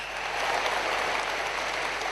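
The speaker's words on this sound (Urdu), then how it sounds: "آپ کی بھرپور تالیوں میں لیڈیز اینڈ جینٹلمین" Applause from a large audience at a Prime Minister's Youth Laptop Scheme 2025 launch ceremony fills the hall as dense, continuous clapping, loud and even for about two seconds, with no voices over it.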